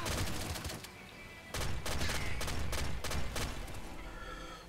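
A sextuple blood rifle fires in the Nuclear Throne video game, rapid bursts of dense gunfire volleys that stop briefly, then resume as loud clustered shots layered with game effects.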